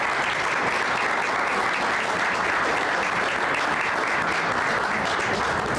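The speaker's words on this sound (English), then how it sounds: "Let's give you another round of applause," A crowd at a 2018 gubernatorial candidate forum claps in a loud, dense, unbroken wave of applause that stays even and sustained for about six seconds.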